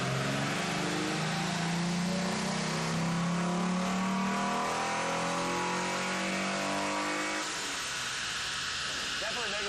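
Mitsubishi Eclipse fitted with a new intake accelerating on a test drive, a loud engine note rising steadily in pitch, then dropping off near the end as the throttle lifts, with voices faintly mixed in.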